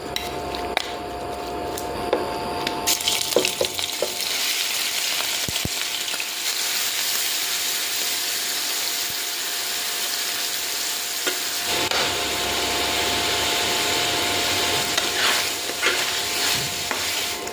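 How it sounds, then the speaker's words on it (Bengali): Shrimp heads, rubbed with salt and turmeric, fry in a pan with a steady broad sizzle and occasional stirring scrapes and clinks, continuous and close for the whole stretch with no talking. "আমাদের মাছটা ভাজা কিন্তু হয়ে গেছে"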